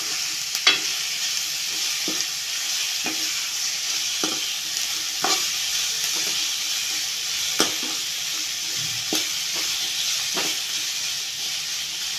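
Sliced onions fry in a pan for a Kerala-style egg roast, giving a steady sizzling hiss, with a spoon scraping and stirring at irregular intervals, close and fairly loud, with no one speaking.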